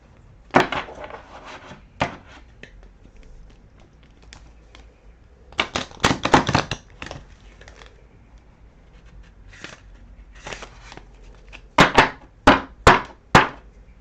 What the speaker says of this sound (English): Just got to shuffle you up a little bit, clear the energy.